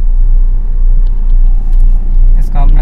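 A 2020 Maruti Suzuki Swift Dzire, with about 1 lakh kilometres over two years, idles with its air conditioning on, a loud steady low engine rumble filling the cabin while people talk over it.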